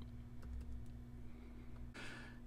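A computer keyboard being typed on, a few soft keystrokes followed by a brief brighter burst of clicks, all over a steady low electrical hum.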